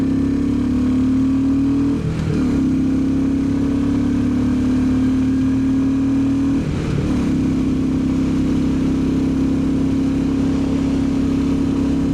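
A Royal Enfield Bullet 350 motorcycle engine drones steadily at cruising speed, with two brief surges of revving as the rider shifts, loud and close throughout.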